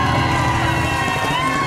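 A dense television studio audience cheers and shouts steadily, with children's voices whooping over a continuous roar of noise.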